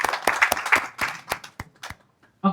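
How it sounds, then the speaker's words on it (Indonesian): Scattered handclaps from a small audience at an Islamic youth study gathering in BSD, a dozen or so sharp claps that thin out over a couple of seconds. "Tepuk tangan dulu dong buat Kak Leoni."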